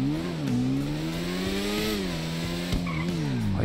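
A motorcycle in GTA 5 Online revs with a steady buzzing engine tone that rises and dips in pitch, with brief tire squeals and skids cutting in, loud and close without any speech.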